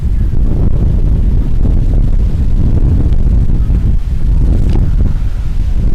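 Steady, heavy wind roars and buffets the microphone throughout at a varsity baseball game, loud and unbroken, with no voices.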